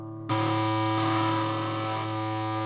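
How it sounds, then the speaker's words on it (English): A Kustom KGA10 small guitar amp gives a loud, fuzz-like distorted chord that rings out steadily and slowly decays, sustained alone without talking. "I think the distortion kind of sounds a bit like a fuzz pedal."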